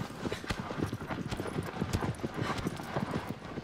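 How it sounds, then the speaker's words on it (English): A horse's hooves clip-clop steadily and briskly in Shadow of the Colossus on PS4, a close rhythmic gallop over a desert landscape, with a faint neigh. "Giddy up, magnificent horse."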